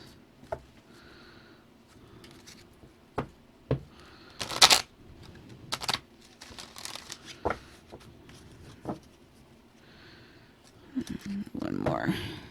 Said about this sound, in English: So we'll give these a good shuffle